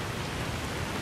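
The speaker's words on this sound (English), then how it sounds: "Because this rain is just so loud." Heavy rain in Grand Theft Auto, a loud, steady wash of dense hiss spread across the whole one-second stretch with no pauses or distinct drops.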